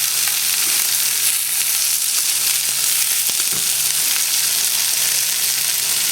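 Stuffing balls fry in a pan for a roast goose, giving a steady, dense sizzle throughout with a few soft knocks as they are flipped.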